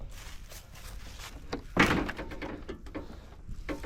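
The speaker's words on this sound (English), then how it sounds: "Let's open up this other door." The door of a 1972 Corvette with rotten, cobbled-together bodywork opens with one solid clunk midway, surrounded by quieter handling noises and scattered clicks in a garage.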